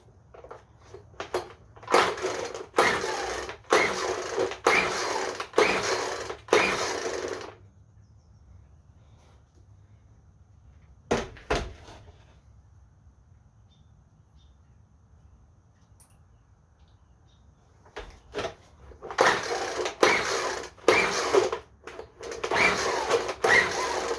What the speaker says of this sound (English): we're going to go ahead and pull the pull start and see if it'll fire off